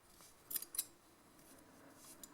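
Scissors snip through doubled cotton yarn pompoms in two quick, crisp close cuts, followed by a couple of fainter snips, all quiet and without speech.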